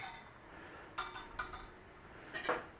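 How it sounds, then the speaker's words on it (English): A spoon stirring whiskey bourbon cream sauce in a pot, with a few light metallic scrapes and clinks in short bursts against quiet background, no talking. "just give it a little stir, try and get rid of some of the heat out of there"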